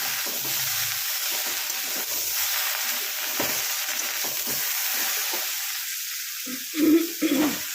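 Eggplant and tomato vegetable curry frying in a pan, a loud steady sizzle with occasional stirring scrapes and a louder clatter near the end, with no talk.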